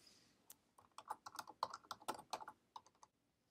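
Keys on a computer keyboard tapped out as a task name is entered in a calendar app, a quick irregular run of about twenty close, crisp clicks with no talking.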